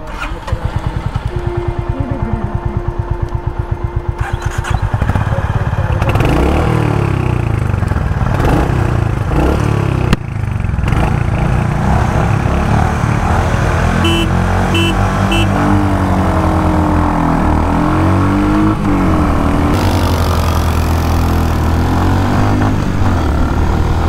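A Royal Enfield Hunter 350 and a Honda H'ness CB350 riding on a highway, steady loud engine drone with rising and falling revs and gear changes, wind rush constant throughout, no voices.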